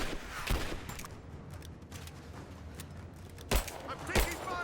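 Sparse gunfire in the video game Rise of the Tomb Raider during a prison shootout: a few sharp distant shots punctuate low background ambience.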